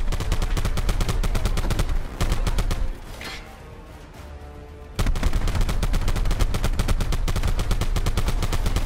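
Black Ops 4 Hardpoint match gunfire, rapid automatic bursts hammering loud and close, broken by a short quieter gap before the sustained firing resumes.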